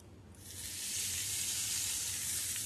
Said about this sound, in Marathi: ह्याला आता आपली फोडणी देऊया।